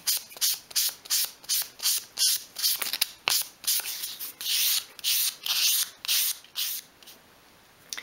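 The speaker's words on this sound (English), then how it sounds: "You can then tidy that piece up in your hand with a piece of 500 grade sandpaper." Hand sanding of a small wooden piece for a 1/12th scale dolls house chest of drawers, using 500 grade sandpaper: close, steady rhythmic rubbing strokes, about a dozen in a row, with no talking.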